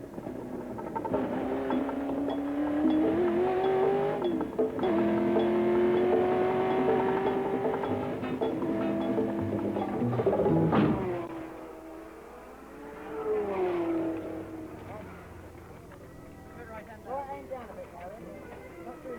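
A 1968 Le Mans race car accelerates on the circuit, its engine note rising in pitch through long, loud pulls before easing off and rising again nearby.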